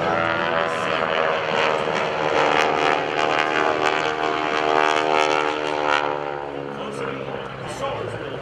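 GEICO Skytypers propeller aircraft diving at a 2012 military base airshow, a loud sustained droning engine roar that swells and shifts pitch as the planes pass, with an announcer talking over it.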